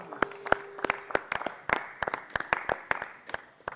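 A small congregation claps together after a prayer, giving scattered, uneven handclaps that sound fairly close and a little sparse, with no other sound competing.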